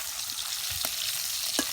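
Small puti fish frying in oil in a pan, a steady close crackling sizzle throughout with a couple of sharper pops near the end.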